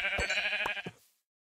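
Minecraft sheep bleating, a single close, clear wavering bleat with a few pulsing beats that cuts off cleanly into silence.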